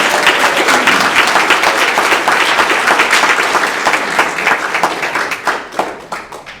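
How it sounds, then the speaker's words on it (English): Crowd applause at an annual general meeting, loud and dense at first, then thinning out into scattered individual claps before stopping. "Let's have a round of applause for your"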